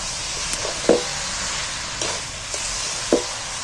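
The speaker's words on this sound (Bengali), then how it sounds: "এটা কিন্তু চাপা দিয়ে দিয়েই কষাতে হবে," Cauliflower stir-fries in a pan with a continuous low sizzle, broken by a few sharp spatula scrapes and taps at irregular intervals.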